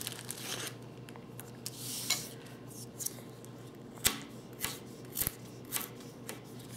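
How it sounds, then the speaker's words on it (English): A Spyderco Delica's thin blade slices through a carrot in a series of short, crisp cutting snaps spaced irregularly over quiet background, close and fairly soft. "that thin blade really slices well"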